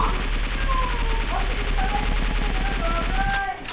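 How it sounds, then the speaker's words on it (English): Rapid, continuous gunfire from a gun in the Roblox game Break In, a dense rattling burst that runs loud and steady throughout before dropping off at the very end. "I have to wake it up with my gun."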